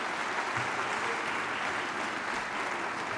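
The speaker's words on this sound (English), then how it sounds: "You're applauding, they're leaving." Steady, dense applause from a large theatre audience at a film music tribute, a continuous wash of clapping heard alone at moderate level for the full stretch.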